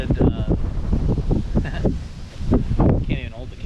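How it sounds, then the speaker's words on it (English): Strong wind on a very windy November day while pheasant hunting in South Dakota, roaring in loud gusts against the microphone, with a voice talking under it. "It's an incredibly windy day."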